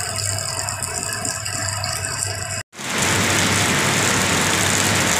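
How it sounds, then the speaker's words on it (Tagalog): Heavy typhoon rain during Typhoon Enteng in a flooded area, a dense steady roar of rainfall on surfaces that suddenly grows louder and broader after a brief dropout, with no talking. "malakas pa rin yung ulan"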